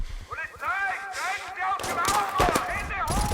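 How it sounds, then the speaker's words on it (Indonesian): Rapid gunfire crackles in a film scene as criminals shoot at arriving police, quick bursts of shots, some echoing, mixed with whistling ricochet-like tones and dramatic noise, loud and close. "Tanpa kasihan, mereka menyambut kehadiran para polisi dengan tembakan"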